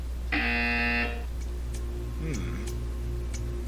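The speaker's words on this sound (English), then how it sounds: "You will hear a buzzer. When you hear the buzzer, stare at the art." A loud, harsh electronic buzzer in Portal 2 sounds once for under a second, then gives way to soft ticking and faint tones over a steady hum.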